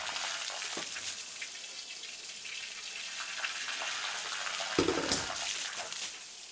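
Water driving the mechanism of the rising and falling Crown Grotto at Hellbrunn, Austria: a steady, hissing rush of flowing water with a brief louder splash partway through.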